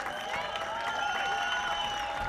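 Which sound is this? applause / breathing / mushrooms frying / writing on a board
applause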